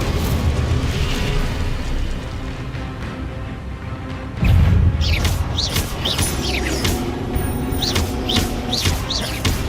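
Hogwarts Legacy fire spell Incendio cast in the video game, a sudden whooshing burst of flame erupting midway over constant ambient rumble, followed by crackling and chirping magical sparkles.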